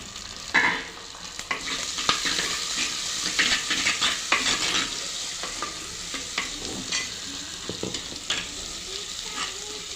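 Onions and garlic sautéing in oil in a pan, a steady close sizzle broken by frequent spatula scrapes and light clatters, continuous throughout with no voices.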